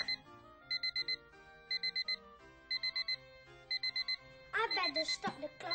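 An alarm clock rings in four short, loud bursts of rapid bell-like trills with brief pauses between them, followed by a voice speaking at the end.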